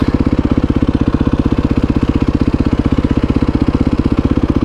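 A Yamaha WR450F dirt bike with a new exhaust baffle idles steadily after an idle-screw adjustment, a loud, even, rapid thumping pulse close up with no revving.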